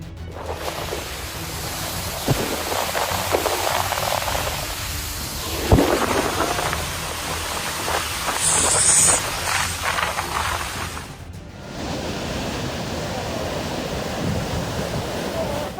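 Ocean waves crash and wind roars during a gale at sea around a large vessel, a dense continuous wash of surf and spray with louder surges and a brief lull near the end.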